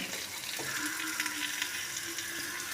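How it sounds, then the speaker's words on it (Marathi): Stuffed bitter gourd fries in a pan of hot oil with a soft, steady sizzle and crackle, continuous and fairly quiet, with a faint scrape or two of stirring. "छान असे फ्राय करून घेत आहोत आपण"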